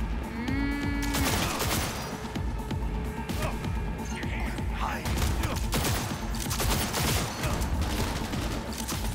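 Bursts of gunfire in the video game Cyberpunk 2077 crackle through a dense, loud mix of game sounds, with rapid shots scattered across several seconds and a voice talking over them.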